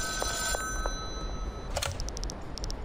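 A telephone ringing in the Schedule I video game, a few short electronic rings repeating in a steady pattern over a constant background hum, fairly quiet.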